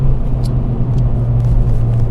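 A JDM Honda Civic Type R EP3 engine drones steadily through a short stretch around an early upshift, a loud close rumble with a low, even tone and no talk.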